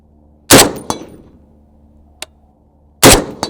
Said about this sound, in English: first rounds on a Scar Heavy